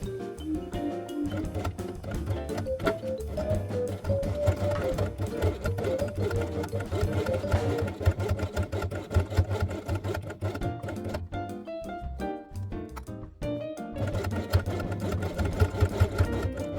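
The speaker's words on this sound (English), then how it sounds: "draw a line between the seams and sew along this line." Sewing machine stitching along a drawn line between the seams of cloth quiet book pages, running steadily and close for most of the stretch with a brief pause near the end before resuming.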